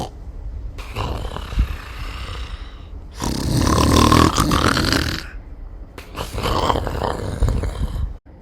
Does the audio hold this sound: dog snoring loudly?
yes